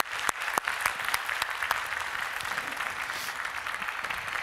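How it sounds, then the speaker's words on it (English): Steady audience applause at a WordCamp keynote, dense clapping with a few sharper claps standing out, sustained throughout at moderate level after a talk ends. "How about a big round of applause to start with?"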